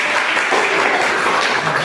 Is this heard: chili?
no